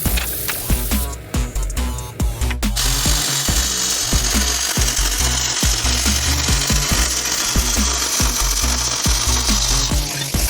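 A power tool cuts 3-inch diameter holes in metal plates, a loud, close, rapid hammering chatter that runs continuously with a harsher grinding start.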